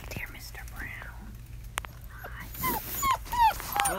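Six-week-old German Shepherd puppies from a litter whimper and yip in high, squeaky bursts, close by, while a person whispers and speaks softly among them.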